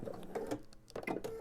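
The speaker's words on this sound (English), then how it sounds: "I'm going to stitch right up until that drawn line, and now I'm going to backstitch" A sewing machine stitches quilt binding up to a marked line and then backstitches, giving short bursts of quick mechanical chatter broken by a brief pause, close and fairly quiet with no talking.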